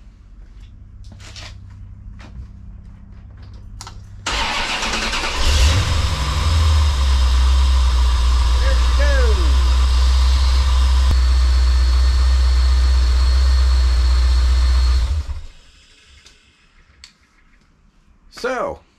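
A car backed into a garage cranks and starts, then settles into a loud, steady idle for about ten seconds before shutting off, leaving quiet room sound and a brief knock at the end.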